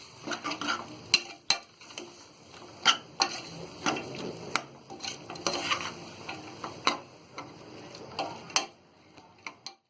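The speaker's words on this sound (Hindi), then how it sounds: "और ये टमाटर डाल देंगे और इसे हम अच्छी तरह भून लेंगे थोड़ी देर।" Tomatoes sautéing in a hot pan with red chilli powder for sambar, a steady sizzle broken by frequent scraping stirs and sharp spoon clicks against the pan, close and continuous with no talking.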